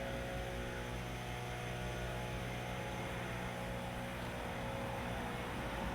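A FIMI X8 Mini drone hovering outdoors gives off a faint, steady propeller hum and whine that holds unchanged throughout, with no voices.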